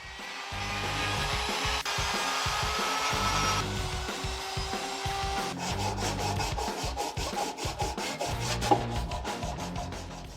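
Steady abrasive rubbing of sandpaper polishing the cleaned-up welds on a Mazdaspeed 3 intake manifold, continuous close scraping strokes with a rhythmic back-and-forth texture and no talking.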